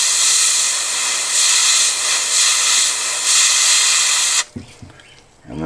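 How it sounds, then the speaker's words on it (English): An airbrush sprays paint onto a fishing lure through a stencil, a loud, steady close hiss that pulses slightly, then stops abruptly near the end, leaving brief faint handling noises. "the more you start using your airbrush, it's not gonna be an issue"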